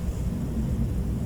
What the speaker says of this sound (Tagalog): Pasensya nyo na rin yung tunog ng airplane.